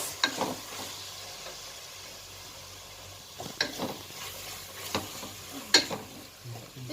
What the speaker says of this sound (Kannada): ಇದು ಫ್ರೈ ಆಗಿದೆ ಈಗ ಈ ಮಸಾಲೆ ಎಲ್ಲ ಹಾಕುವ ಮಿಕ್ಸ್ ಮಿಕ್ಸ್ ಮಿಕ್ಸ್